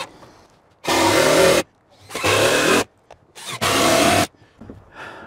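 A power drill drives star screws into deck boards in three loud bursts of about a second each, whirring and grinding through the wood with brief pauses and small clicks between runs.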